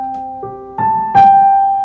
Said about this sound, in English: a slightly more moody version